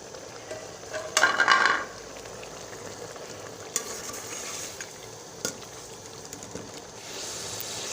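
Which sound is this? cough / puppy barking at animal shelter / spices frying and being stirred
spices frying and being stirred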